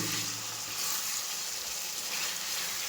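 Chicken coated in chicken masala browning in a pan: a dense, continuous close-up sizzle and hiss with faint stirring, steady throughout and without voices.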